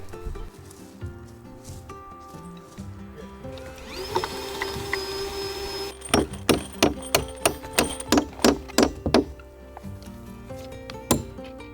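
A power drill drives lag bolts into the wooden walls of a circular greenhouse border outdoors, first a sustained whirring run, then a rapid series of about a dozen sharp ratcheting bursts, close and fairly loud.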